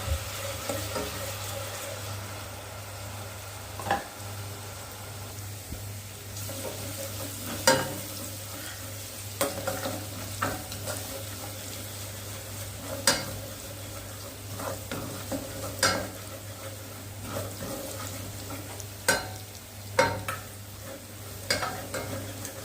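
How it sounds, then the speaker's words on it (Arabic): A large spoonful of garlic sizzles steadily in oil while a utensil scrapes and taps the pot at irregular intervals, the garlic turning golden for Egyptian koshari. There are no voices. "هضيف بقى معلقة من الثوم كبيرة جدا. انا هستنى يعني كويس جدا، هقلبه بقى كويس لحد ما ياخد لون ذهبي كده"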